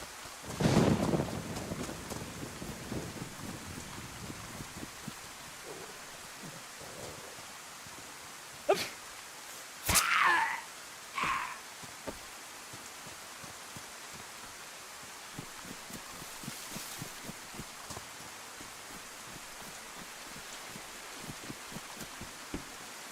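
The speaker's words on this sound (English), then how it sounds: "Does the rain sound better with a helmet on?" Rain in the survival game DayZ, a soft steady patter with a few louder bursts and thumps partway through, heard alone without talk.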